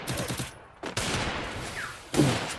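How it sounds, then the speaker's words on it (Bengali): MP40 submachine gun fire in the mobile game Free Fire, short rapid bursts of shots with brief gaps between them, loud and close, with game effects and no talking. "MP40 দিয়ে মারামারি করে"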